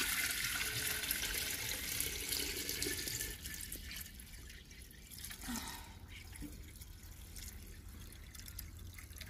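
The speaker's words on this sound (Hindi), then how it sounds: "अब हांडी में पानी डाल देते हैं।" Water trickles and splashes steadily into a clay pot set on a village earthen stove, a soft continuous pouring with faint dripping, no voices.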